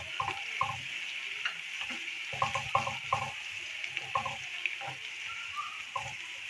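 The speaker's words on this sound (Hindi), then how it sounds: "उसको थोड़ा सा भून लेंगे, फ्राई करेंगे अच्छी तरह से" Ginger paste fries in a pan for sarson ka saag, a constant soft sizzle broken by repeated scraping stir strokes of a spoon against the pan, close and fairly quiet.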